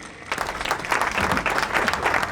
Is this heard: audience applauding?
yes